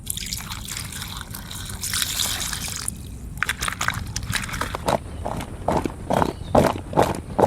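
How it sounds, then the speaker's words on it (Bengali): Potatoes being washed in water at an outdoor village cooking spot, with repeated sloshing and dribbling splashes that grow louder and more rhythmic toward the end, close by and with no talk. "এখন আমরা আলুটাকে ধুয়ে নেব।"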